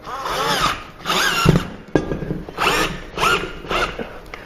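A power drill bores a pilot hole into drywall to mount a shelf bracket, heard as several close, loud whirring bursts that rise and fall in pitch with short pauses between them.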